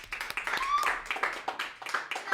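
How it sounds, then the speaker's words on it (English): A short burst of clapping from a small group, brisk and uneven, with a voice rising over it partway through. "Let's give a round of applause for that."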